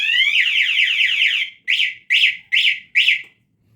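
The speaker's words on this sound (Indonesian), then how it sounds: "di sini alarm berbunyi dan motor tidak dapat dinyalakan ya" A motorcycle anti-theft alarm wails in a rising, warbling siren for about a second and a half, then breaks into four short, sharp chirping bursts, loud and close with no talk over it.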